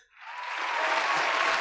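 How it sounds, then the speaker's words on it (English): A podcast audience breaks into applause, swelling within a fraction of a second into a steady, dense wash of many hands clapping that holds strong to the end. "Can you get a round of applause,"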